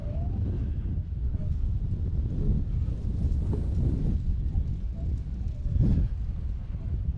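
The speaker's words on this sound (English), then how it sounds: "it almost feels like the wind might be dying down just a little bit here in Hammertown" Gusty wind buffets outdoors at an off-road race in Hammertown, a constant low rumble that swells and fades in irregular gusts, with faint speech under it.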